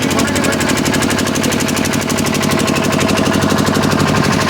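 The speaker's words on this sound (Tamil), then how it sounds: "விளம்பர வண்டி முன்னாடி போயிடுங்க." Engine of a campaign advertising vehicle running loud and steady at an election canvassing event, with a close, continuous rattling, knocking throb and no break throughout.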